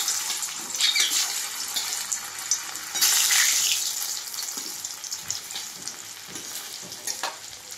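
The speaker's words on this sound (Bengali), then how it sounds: "এবারে আমি কচুগুলো ভাজবো।" Pieces of taro frying in hot salted oil, sizzling steadily with a louder burst of spatter partway through and a lighter crackle around it, with no talking.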